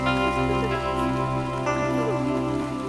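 Heavy rain pours steadily throughout a film scene, a dense continuous wash of falling water with a low tonal hum layered underneath.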